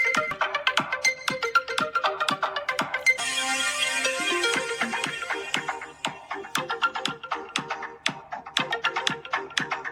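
A bright electronic smartphone ringtone melody plays loudly through the phone's small stereo speaker, repeating in quick rhythmic bursts with no talking.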